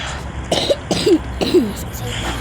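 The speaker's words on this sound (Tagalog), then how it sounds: "Inuubo ako" Three short coughs in quick succession, close and fairly loud, with a throaty rasp and brief pauses between them over a low background hum.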